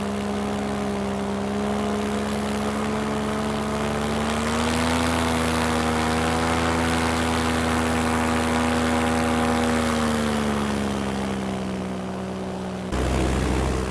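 A small propeller plane's engine drones steadily and loudly, its pitch rising slightly midway and dropping again, with a brief change near the end.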